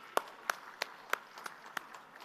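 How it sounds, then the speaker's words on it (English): Audience at the Invest Karnataka event in Hall F giving a round of applause for the TIE team, heard as about seven sparse, isolated claps spaced at a slow, regular interval over a quiet room, fairly faint. "So big round of applause for TIE team."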